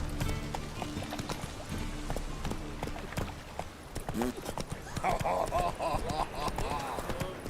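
Horse Roach's hooves clip-clop at a gallop in a video game, a steady rhythmic pounding carried under speech, with a brief whinny partway through and music-like tones near the end.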